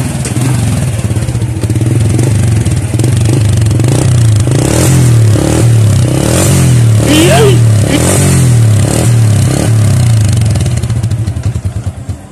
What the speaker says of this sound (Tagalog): syempre kailangan natin pandarin ang kanyang motor